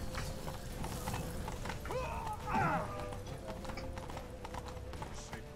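Horse hooves gallop in The Witcher 3, a fast continuous clatter of hoofbeats close by, with a brief whinny-like cry partway through.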